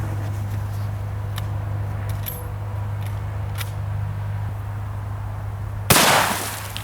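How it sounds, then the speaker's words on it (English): A single sharp, loud rifle shot from Hornady 160 grain LEVERevolution ammunition cracks near the end after several seconds of steady low hum outdoors, followed by a brief fading echo. "Now let's shoot these Hornady."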